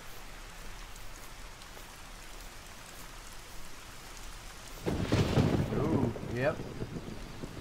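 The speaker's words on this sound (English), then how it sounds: "It's a cold, windy day on rainy day on Mount Leviathan." Rain hisses steadily on Mount Leviathan in theHunter: Call of the Wild, then a loud rolling thunderclap swells up near the end of the storm, and a voice speaks briefly over it.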